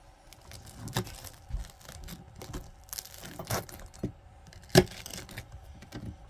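A knife cutting into a freshly baked homemade loaf, a close series of dry crackling, tearing crust crunches in irregular bursts, with one sharper crack near the end and no talking.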